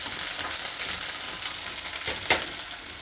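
Onions and green chillies sizzle in hot oil in a pan, a steady close crackling hiss with a couple of sharper stir or spatter bursts near the end, with no talking.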